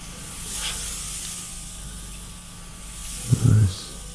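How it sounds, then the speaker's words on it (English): Aerosol spray paint being applied in short bursts to a scale model, a soft steady hiss running throughout with a louder, closer burst near the end. "You just spray it around. Make sure you're all fully covered there."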